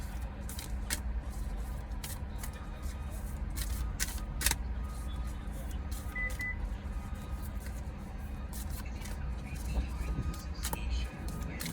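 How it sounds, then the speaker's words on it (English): A deck of oracle cards is shuffled by hand, a continuous soft papery rustle with scattered sharp clicks and snaps close up throughout. "Shuffling these cards."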